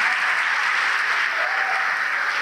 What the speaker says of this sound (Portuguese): E vamos aplaudir o Senhor